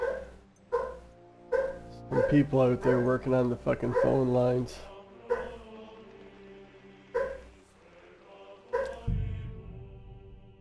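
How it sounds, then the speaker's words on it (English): A dog barks and yips indoors in short loud bursts, with whimpers between them, while someone talks over and between the barks. "My dog is losing his goddamn mind."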